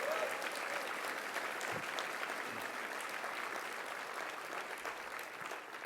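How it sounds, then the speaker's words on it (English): Applause from diners at a fall dinner, a broad, even wash of many hands clapping heard from a distance at moderate volume, continuing steadily without voices. "Let's give her a round of applause."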